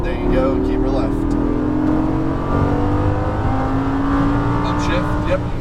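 A Lamborghini Gallardo LP550 accelerates hard on a race track, its engine note rising steadily and loud throughout, with an instructor's voice talking over the engine.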